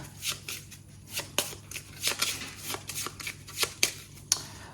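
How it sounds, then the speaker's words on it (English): A deck of Marvel Champions cards riffled and shuffled in a quick series of crisp, papery bursts, close up, with a low steady hum underneath. "I'm going to shuffle this one here."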